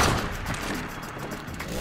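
Shotgun trap firing in Rust, a dense, loud, continuous wash of blasts and rumble with no clear break, close and forceful.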